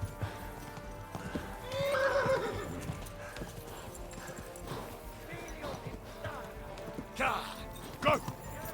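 Horse galloping and neighing in the medieval video game Kingdom Come Deliverance 2, steady hoofbeats running throughout with a couple of whinnies, heard at moderate level beneath background game sounds.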